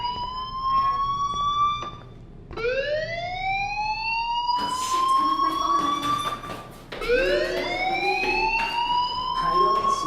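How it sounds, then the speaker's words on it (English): A fire alarm in the Life is Strange video game, a loud electronic whooping tone that sweeps upward again and again in repeated wails, layered with overlapping sounds from the surroundings. "do you hear that fire alarm?"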